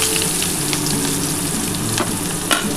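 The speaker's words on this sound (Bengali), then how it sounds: "এবার যে তেলটা আছে এই তেলের মধ্যে আমি পেঁয়াজটা দিয়ে দিচ্ছি" Chopped onion dropped into hot oil left from frying fish, sizzling loudly and continuously at close range, with a few faint clicks on top and no voices.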